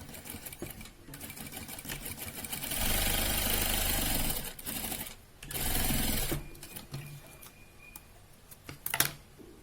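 A sewing machine stitches a 1 cm seam joining gusset panels of a fabric sling bag, running in two sustained loud bursts with quieter handling sounds and brief stops between them.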